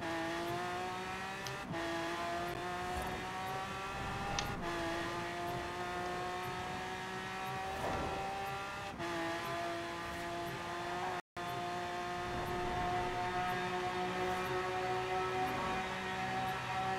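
A Koenigsegg Agera RS engine screams at sustained high revs while racing past 270 mph on a downhill run in Forza Horizon 4, a loud steady tone broken by brief gear-shift dips and a short dropout.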